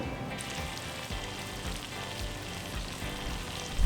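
Onion sizzling steadily in a hot pan at the start of a cheese sauce, a continuous close crackle and hiss with no talking over it.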